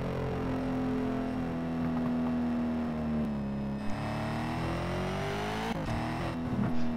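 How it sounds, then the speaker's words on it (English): A car engine drones at high revs in the racing game Need for Speed Shift 2 Unleashed, a steady buzzing whine that shifts pitch as gears change, loud and continuous with no talk over it. "I don't know why they make this car so unenjoyable to drive."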